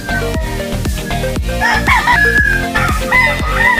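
A voice imitates a rooster crowing, loud and drawn out, over a steady repetitive rhythmic backing.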